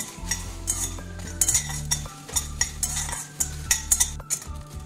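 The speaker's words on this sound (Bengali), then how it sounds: "কিছু শুকনো লঙ্কা দিচ্ছি, 1 চামচ দিয়ে দিচ্ছি ধনে, 1/2 টিস্পুন দিচ্ছি জিরা। এটা হালকা ভেজে নেব।" Dry red chillies, coriander seeds and cumin are lightly roasted in a pan, with a spoon or spatula scraping and stirring in quick irregular strokes and a soft faint sizzle underneath.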